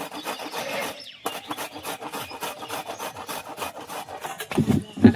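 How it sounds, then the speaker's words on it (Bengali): Food rubbed by hand against a grater for mutter shaak pakoras in a village kitchen, a steady run of close, rhythmic rasping strokes that picks up toward the end. "এটাই তো আমি এইভাবে গ্রেট করে নেব।"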